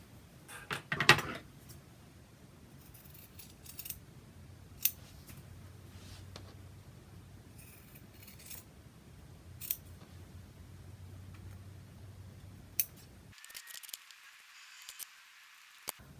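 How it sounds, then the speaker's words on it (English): Scissors cut the corners off a knitted drawstring bag, giving sharp, separate snips spaced out over the quiet, close and crisp, with no talking. "And we're going to cut those corners out."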